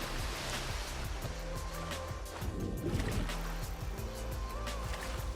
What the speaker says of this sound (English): Here we have a pool, so sounds of water.